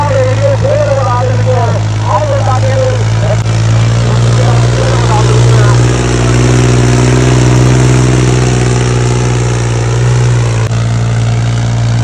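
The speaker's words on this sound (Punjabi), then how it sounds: "ਮਾਈਕਰੋ ਜਾ ਗਿਆ ਨਵਦੀਪ ਦਾ ਟਰੈਕਟਰ ਬਾਈ" A heavy tractor engine drones steadily at close range, a deep continuous rumble with slight swells in power, while voices talk faintly over it at a trolley-pulling competition.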